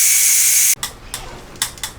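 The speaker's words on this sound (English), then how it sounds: "right now I'm going to open the valve and let the steam escape" Steam escapes from the pressure-release valve of a Ninja Foodi pressure cooker in a loud, steady hiss that cuts off abruptly. A few sharp clicks and short spurts follow.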